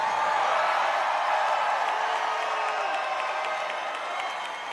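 A big rally crowd in Pensacola, Florida applauds and cheers in a dense, sustained wash of clapping and shouts that fades slightly toward the end.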